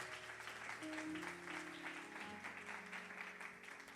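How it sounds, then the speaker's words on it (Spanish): A church congregation applauds in a steady wash of clapping, with sustained organ or keyboard tones running underneath throughout. "Y denle un aplauso al Señor."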